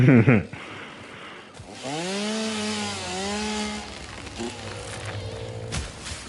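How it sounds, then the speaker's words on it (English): A chainsaw cuts wood in the video game Satisfactory: a steady, buzzing engine drone that rises and falls in pitch as it bites, with a sharp burst at the start and an abrupt stop near the end. "What is the white bar near the chainsaw?"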